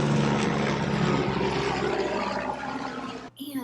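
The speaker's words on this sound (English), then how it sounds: "Can this helicopter not right now?" A helicopter flies overhead during an indoor home recording, a loud broadband rotor roar that fills the clip steadily and cuts off near the end, leaving only faint room sound.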